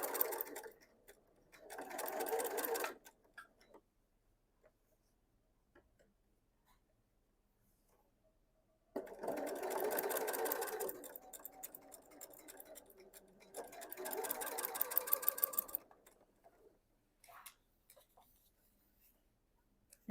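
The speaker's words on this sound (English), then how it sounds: "We're just going to sew these two pieces together." A sewing machine stitches two quilt-as-you-go mug rug pieces together in three separate runs of rapid, even chatter, quiet and close, with short pauses between them.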